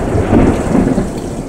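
Heavy rain pouring steadily with a low rumble of thunder rolling underneath, loud and close, no voices.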